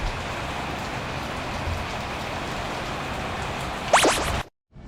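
Steady rain falls during a delivery ride, making a continuous even hiss of drops on surfaces throughout, with a brief sharper squeak and rustle near the end before the sound cuts out.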